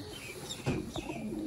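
Sialkoti Master Abdullah pigeons with pearl eyes, pure breeder stock, give a short burst of cooing, with one louder coo standing out amid soft bird sounds nearby.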